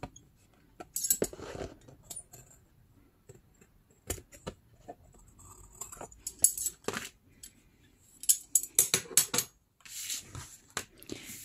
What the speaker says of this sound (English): And I'm gonna cut this excess from this side.